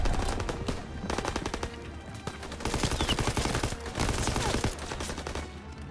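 Rapid bursts of automatic gunfire from a Call of Duty WWII firefight, loud and close, repeated in quick rhythmic volleys with short pauses between them.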